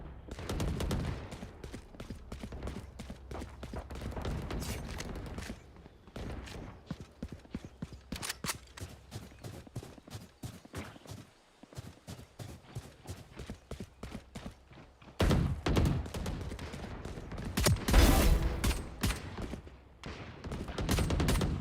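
Ghost pistol gunfire in a video game deathmatch, rapid sharp shots in bursts mixed with footsteps and game sounds, loud and dense throughout with brief lulls.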